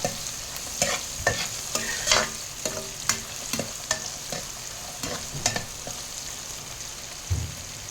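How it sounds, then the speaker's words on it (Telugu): Onions and green chillies fry in a pan with a steady sizzle, punctuated by frequent scraping taps of a stirring spoon, close up and without voices. "అన్నీ వేసి మంచిగా ఫ్రై చేసుకోవాలి. ఆనియన్స్, పచ్చిమిర్చి మంచిగా ఇందులో వేగితే ఫ్లేవర్ ఎన్హాన్స్ అవుతుంది."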